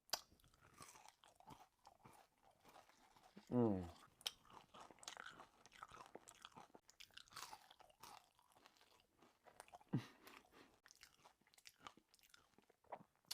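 Crisp almond samsa pastry crunches in a brief loud burst of bites near the mic, then a fainter crunch follows later while quiet chewing and soft background noise continue.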